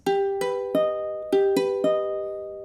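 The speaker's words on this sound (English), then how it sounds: "if it were an augmented chord, it would sound like this" Two bright keyboard-like chords, an augmented chord in an ear-training lesson, ring out as broken notes stepping upward, the pattern played twice, each note sustaining and slowly decaying with no talking.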